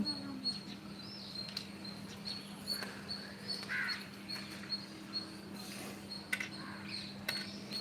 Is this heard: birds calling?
yes